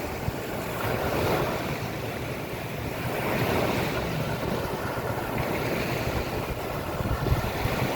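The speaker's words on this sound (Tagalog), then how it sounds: "hindi kami makapangisda kasi masyadong malakas ang alon" Loud, continuous crashing surf with heavy wind buffeting the microphone, a dense roaring wash of ocean waves with no pauses.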